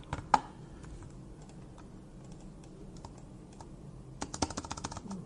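Keystrokes tapped on a Bluetooth computer keyboard, close and fairly quiet, in scattered clicks with a sharp tap early on and a quicker burst of typing near the end.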